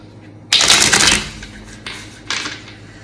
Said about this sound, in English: Haven't used this deck in a while. I'll do a good hard shuffle.